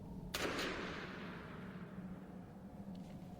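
A sharp gunshot in a tense Western audio drama, a single loud crack followed by a long fading tail over a steady low ambient bed.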